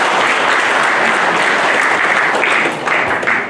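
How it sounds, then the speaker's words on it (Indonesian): Loud, dense applause from an audience at an Indonesian political party congress, a sustained roar of many hands clapping close by that stays full throughout, with a few more distinct claps poking through toward the end. "Tepuk tangan untuk teman-teman media."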